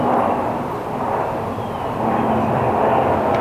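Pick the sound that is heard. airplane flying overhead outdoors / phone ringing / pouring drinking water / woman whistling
airplane flying overhead outdoors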